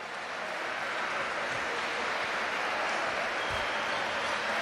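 Sustained crowd applause fills a basketball arena during a player substitution, a dense steady wash of clapping at even loudness throughout with no clear talk over it.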